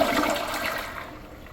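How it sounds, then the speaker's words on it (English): A Gerber Maxwell fourth-generation toilet flushes with a quick press and release, a loud close rush of water that swells at once and then slowly thins out over the following second. "That was a press and release flush"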